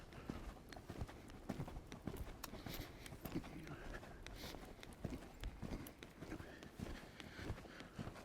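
A horse cantering a circle in a riding arena, its hoofbeats a steady rolling rhythm of soft thuds and clops, moderately near, with faint rider noise.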